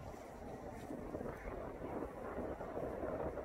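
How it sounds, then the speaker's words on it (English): Wind gusts across the microphone beside a river, a continuous rough low rushing that stays steady and fairly faint throughout, with no talking. "Guys, it's so windy, I'm sorry."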